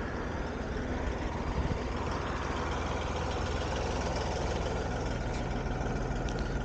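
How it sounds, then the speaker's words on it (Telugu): A Tata truck engine idling after a drive, a steady low rumble with a faint knock, continuous and close throughout. "బండికి ఇంకా ఇంజిన్ ఆపలేదు."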